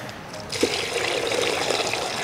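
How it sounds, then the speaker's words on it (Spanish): Water pours into a cooking pot for guava sweet, a steady splashing trickle that begins halfway through and keeps going, close and moderately loud. "acá tengo el agua, vamos a poner agüita"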